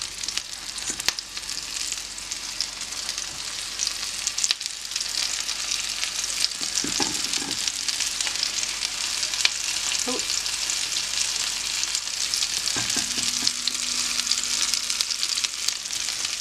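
Falafel fry in hot oil with a steady, close sizzle and crackle, a faint bubbling hiss that continues evenly with a few soft clinks and no talking.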